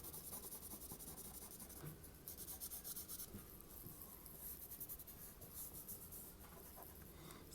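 Soft, steady scratching and rubbing of coloring tools on paper while drawing, faint and close, with continuous textured strokes and no talking.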